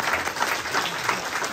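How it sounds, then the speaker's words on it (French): Steady, dense applause from a crowd at a memorial tribute, a continuous wash of clapping with no pauses, fairly close and loud. "ils sont présents aujourd'hui, on peut les applaudir"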